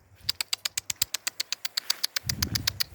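A pigeon arrives, its wings giving a fast, even run of sharp clattering flaps close by, followed by a brief low throaty coo near the end.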